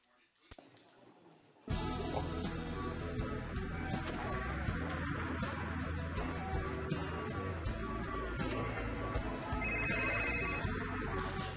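Z phone ringing in the Hannah Montana The Movie Wii game at a fair, a bright repeating electronic ringtone bursting in after a quiet start and continuing steadily, with game music or voices mixed in underneath.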